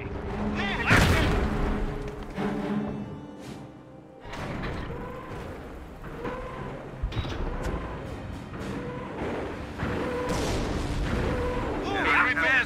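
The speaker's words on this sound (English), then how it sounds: "Barrage underway." An artillery barrage in a World War II strategy game at Vimoutiers: repeated heavy booms and thuds land at irregular intervals, some near and sharp, others duller, with units' voiced radio commands talking over the shelling.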